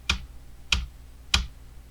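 Three crisp computer keyboard keypresses, Alt held with the right arrow key, evenly spaced about 0.6 seconds apart, close and clear in a quiet room.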